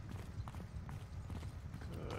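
Horse hooves thud in Mount & Blade II: Bannerlord, a faint, rhythmic clip-clop under a busy low rumble of battle noise.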